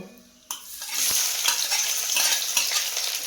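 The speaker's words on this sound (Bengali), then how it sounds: "ভাজা ভাজা হয়ে গেছে, এবার কুচানো পেঁয়াজগুলো দিয়ে দেব।" Chopped onions dropped into hot oil in a wok with bay leaf, cloves, cardamom and dried chilli, a sudden burst of loud sizzling after a quiet start, then a steady frying hiss with stirring scrapes.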